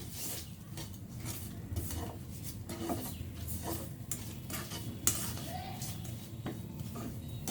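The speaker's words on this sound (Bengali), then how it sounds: "এরপর আমি ভালো করে নাড়াচাড়া করব।" A sugared mixture stirred in a pan for a Bengali kanmuchri pitha snack, quiet continuous scraping and light sizzle with occasional utensil clinks against the pan.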